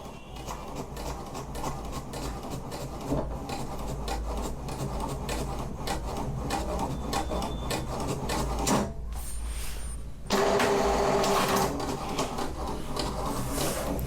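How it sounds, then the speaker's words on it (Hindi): An HP DeskJet 2332 inkjet printer printing a page gives a steady mechanical whirring and rubbing with repeated carriage passes, then a brief louder burst near the end, with no talking. "प्रिंटर ने खींच लिया है, अभी प्रिंट दे रहा है।"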